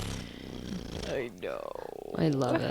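A cat purrs close by in a steady low rumble, mostly beneath people talking.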